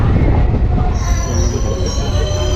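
A train rumbles loudly close by at Hasimara railway station, its wheels squealing high and sustained against the rails.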